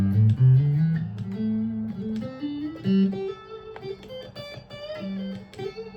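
Clean electric guitar plays a quick run of single notes climbing up a scale, each pick attack distinct, moderately loud with no voices.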